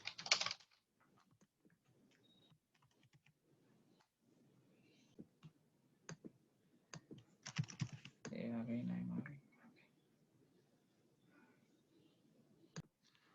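Typing on a computer keyboard, a sparse run of light key clicks spread across the clip with a denser burst near the middle, quiet and close, with faint speech underneath.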